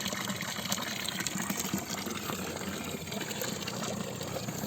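Steady flowing water in a village in the middle of a forest, running continuously at close range during the dry season, with no other sounds over it.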